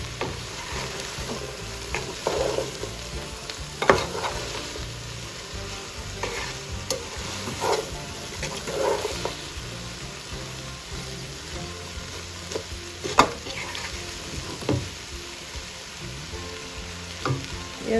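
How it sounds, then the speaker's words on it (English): Guyanese-style okra stew fries and reduces in a pot, a constant close sizzle broken by occasional spoon scrapes and knocks as it is stirred, no talking. "Let it keep frying and reduce."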